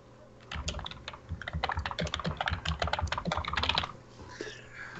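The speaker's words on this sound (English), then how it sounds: "You are one typing motherfucker" Rapid, continuous typing on a computer keyboard, a dense run of close, crisp key clicks lasting several seconds before tapering off, with no talking.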